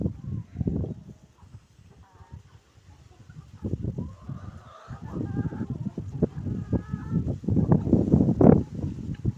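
Hens cluck and squabble close by in bursts, with occasional louder squawks and some background voices.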